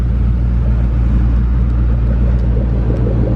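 A Ford Shelby GT500 rumbles loudly and continuously nearby, a deep, steady exhaust drone with no pauses.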